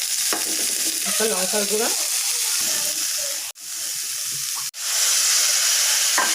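Boiled lentil dumplings and potatoes frying with spices in a pan, a loud continuous sizzle broken by two brief pauses as someone speaks briefly over it.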